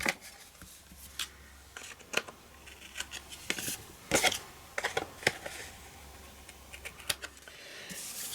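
Scissors trim the ends of patterned paper during card making, producing a series of sharp, close snips and paper crinkles at an irregular pace, with no talking.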